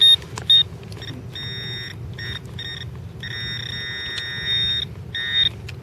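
A metal detector sounds repeated electronic tones over a coin outdoors, the beeps coming in short and longer bursts with brief gaps, clear and steady over faint background noise.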